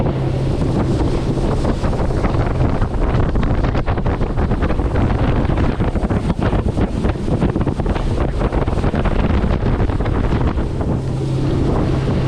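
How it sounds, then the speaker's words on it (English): Strong, steady wind buffets the microphone on a boat out on Lake Pleasant among sailboats, a loud continuous roar with water noise beneath and no talking. "it's a nice breezy, cool day out here at Lake Pleasant"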